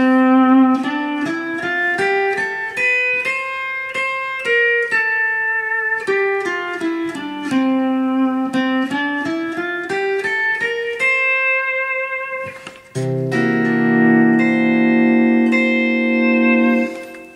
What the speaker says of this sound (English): the next one will be a C7th scale,